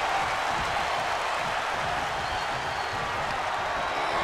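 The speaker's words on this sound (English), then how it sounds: "The sound of this crowd is deafening" A packed wrestling arena crowd roars in a dense, continuous wall of cheering and applause, loud and unbroken throughout, with no single voice standing out.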